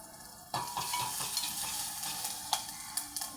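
A piece of green chili drops into hot oil tempered with turmeric while a brinjal dish is cooked. After a quiet moment comes a sudden loud sizzle with crackling pops, and the frying hiss keeps going steadily.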